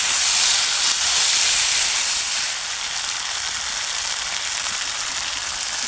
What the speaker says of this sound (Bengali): এবার এতে আমি দিয়ে দেবো জল।